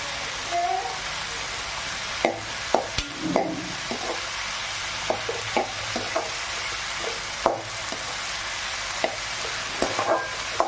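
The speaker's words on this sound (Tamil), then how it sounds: "இதை நல்லா நம்ம வந்து வதங்குற வரைக்கும் வதக்கி விடுங்க" Crab masala gravy sautéing in a pan, a steady sizzle with a spoon scraping and stirring in irregular knocks and clinks, close and fairly loud, with a brief voice early on.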